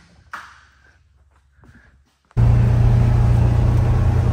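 A vehicle starts up and drives out across a field toward a large center-pivot irrigation sprinkler, its engine a loud, steady low rumble that cuts in suddenly after a few faint taps and clunks of getting in.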